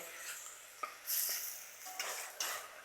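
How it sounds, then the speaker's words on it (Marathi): Sprouted moth beans are stirred and sautéed with onion and tomato in a pan: soft scraping strokes with a few sharper knocks against the vessel over a faint sizzle, quiet and close, no voices. "अशी मोड आलेली मटकी टाकायची आहे आणि मटकी आहे ना आपल्याला गॅस मिडियम करून साधारण एक तीन ते चार मिनटं ना त्या कांदा टोमॅटोमध्ये अशी परतवून घ्यायची आहे"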